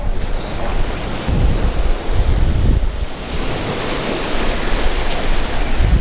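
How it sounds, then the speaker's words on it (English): Ocean surf crashes around a shoreline in Carmel during surf fishing, a loud continuous roar of breaking waves swelling and easing, mixed with gusty wind buffeting the microphone. "we got waves crashing behind us, in front of us, towards us"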